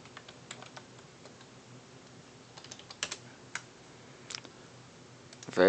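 Keys tapped on a computer keyboard in short, irregular bursts of light clicks, close and quiet, with a louder clunk at the very end and no voices.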